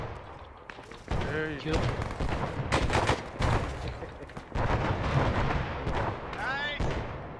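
Grenades explode in the Battle of Long Tan video game, a series of heavy blasts amid gunfire over about seven seconds, with players talking over the noise.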